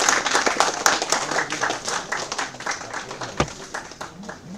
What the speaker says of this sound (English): You can expect a huge round of applause